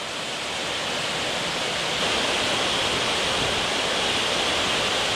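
Loud, constant roar of Stanley Ghyll waterfall in the Lake District, a dense rushing wash of falling water with no pauses.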